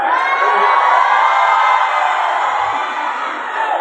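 A large crowd of Islamic boarding school students shouts and cheers together in one loud, sustained roar that holds steady and then tapers slightly, with no individual voices standing out.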